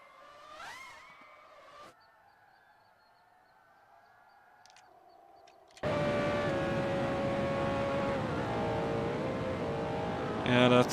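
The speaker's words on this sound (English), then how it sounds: "Yeah, that sounds like an engine." A race car engine from the 1987 CART Quaker State 500 is heard first as faint, thin whining tones, then as a sudden loud, sustained roar that fills the rest of the clip.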